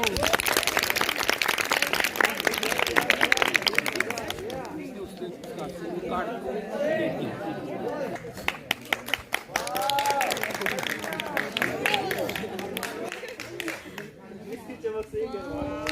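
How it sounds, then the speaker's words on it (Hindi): At a school greeting-card making competition in Pithoragarh, a room of students claps in bursts between stretches of chatter and a speaker's voice, the clapping loud and close at times, then fading under talk. "जोरदार तालियां।"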